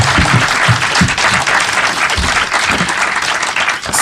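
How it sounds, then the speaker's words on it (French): Attendees at a press conference with comics artists Barry Kitson and Mark Buckingham break into loud, close, sustained applause. A few heavier individual claps stand out within the steady wash of clapping. "Vous pouvez les applaudir."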